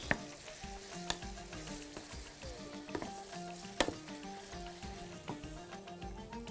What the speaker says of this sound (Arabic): نقلب كده نبتدي بقى نحط الثوم